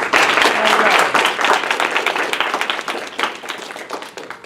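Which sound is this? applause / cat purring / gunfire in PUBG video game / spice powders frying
applause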